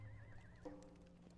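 Horse archer cavalry in the strategy game Total War Rome Remastered, a single wavering whinny followed by faint hoof clopping, quiet and brief.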